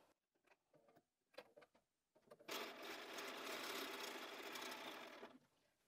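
Sewing machine chain piecing small quilt block units, a few short stitching bursts and handling taps, then a sustained fast rattling run of stitches for about three seconds, close and clear.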